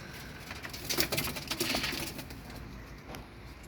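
Soft bird calls and cooing from several caged birds close by, with light fluttering and pattering throughout.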